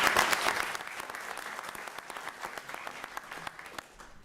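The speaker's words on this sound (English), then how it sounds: "Okay, let's give them one more round of applause." A room of people at a town council meeting gives a round of applause honoring officers, starting loud and dense and tapering steadily over a few seconds.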